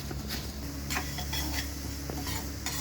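Coriander seeds roasting in a pan on low flame are stirred with a utensil, giving soft scraping and light rattling with faint sizzling, quiet and continuous with a few sharper clicks.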